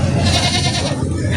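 Goats bleat at a busy livestock market in Del Carmen, Uson, Masbate, one short, close, wavering bleat over a dense background of crowd and animal noise.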